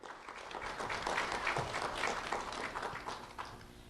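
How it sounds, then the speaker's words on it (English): Clapping from a crowd at an awards recognition for a local elementary school student, a moderate burst of many hands that swells and then gradually thins out, heard from a distance without talk. "Round of applause for Alberto"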